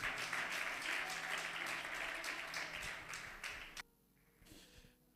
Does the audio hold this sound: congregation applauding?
yes